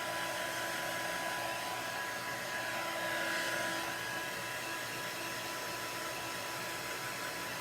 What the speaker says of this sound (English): You gotta be careful not to melt the plastic underneath it with this dryer.